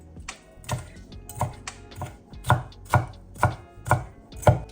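A knife cutting a jalapeño on a cutting board to take out the seeds and membrane: about nine crisp, evenly spaced taps close up, in a steady chopping rhythm with no talk.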